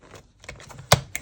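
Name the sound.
cutting paper strips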